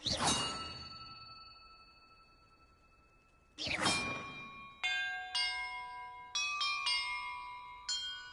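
Bells rung in Hogwarts Legacy, two big clanging strikes that ring out and fade, then a quick run of shorter bright chimes in an uneven sequence.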